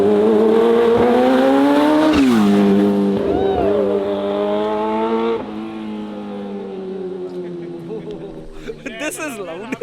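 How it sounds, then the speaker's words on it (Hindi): A Kawasaki Ninja H2 motorcycle with a loud turbo engine roars past at close range, its howl climbing, then sliding down in pitch as it moves away, with a brief squeal and rising revs near the end. "H2 का फ्लाईबाय"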